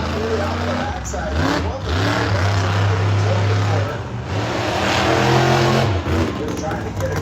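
A monster truck engine revs for a sky wheelie at an outdoor exhibition in Redmond, Oregon, a loud, nearby roar that climbs and drops in pitch through repeated throttle surges, sustained throughout.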